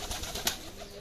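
Sirazi pigeons in a cage give a soft, short coo, faint and close, with no talking.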